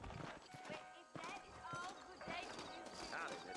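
Saddled horses clip-clop along at a trot in the Western video game Red Dead Redemption, hoofbeats sounding under continuous game dialogue and background score.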